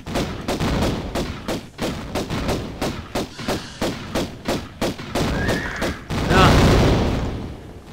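Gunfire in the video game Tomb Raider: a long series of loud, close, evenly spaced shots booms in steady rhythm, then gives way to a heavier rumbling blast at the end.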